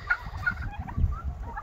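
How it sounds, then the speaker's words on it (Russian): White turkeys gobble in short, warbling bursts, several calls overlapping at close range. "Вот, показываю вам индюков белых."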